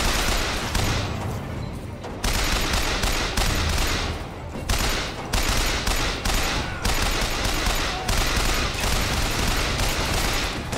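Sustained rapid gunfire from enemy-shooting combat in the video game Bioshock Infinite, loud dense bursts with brief pauses, continuing throughout.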